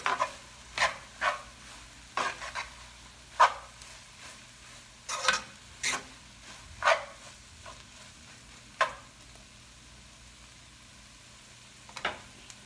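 Pandan leaf, cinnamon, clove, garlic and cardamom are stirred in a frying pan, giving a run of short scraping strokes over a faint sizzle, evenly spaced for about nine seconds, then a pause before a final scrape.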